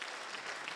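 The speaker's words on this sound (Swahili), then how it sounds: "Tumpigie makofi Madam Winnie." A brief burst of crowd applause at a public security forum in Migori Town honoring Madam Winnie, fairly faint, even clapping from a seated audience.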